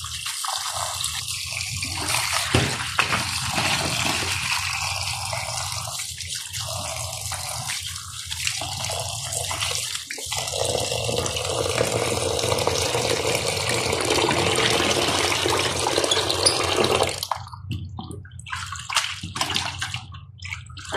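Tap water running steadily into a sink while fish and prawns are washed, a continuous splashing rush with shifting tone as hands move through the flow, easing off near the end.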